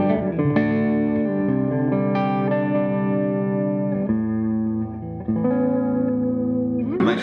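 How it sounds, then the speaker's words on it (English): Sustained electric guitar chords ring out through an MXR Carbon Copy delay set for slapback, with some reverb, loud and close, changing every second or two. "I am liking this idea of a bit of a slap back"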